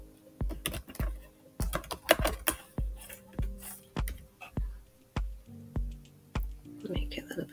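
Crisp, irregular keystrokes tap on a computer keyboard while text is typed into a T-shirt design, close and clear in quick bursts with short pauses between them.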